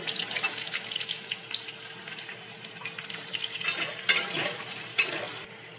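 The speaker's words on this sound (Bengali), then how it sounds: "সব সবজিগুলোই হালকা হালকা করে ভেজে নিতে হবে।" Vegetables including cauliflower, potato, pointed gourd, peas, carrot, capsicum and papaya are lightly fried in hot oil in a wok, with a steady sizzle and occasional scraping stirs and clinks close by, and no talking.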